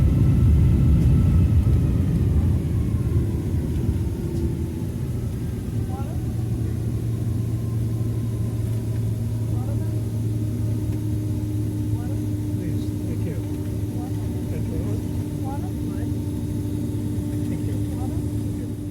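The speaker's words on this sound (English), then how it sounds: "The takeoff run begins." An airliner at JFK on a rainy night with slush on the windows, taxiing and beginning its takeoff run: a steady, loud cabin rumble of jet engines with a sustained low drone that holds throughout, heard from inside the aircraft.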